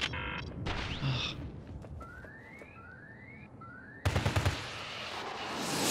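Gunfire in the Syndicate video game, bursts of shots amid whirring and swooping effects at moderate level, ending in a louder rattling volley with no one talking.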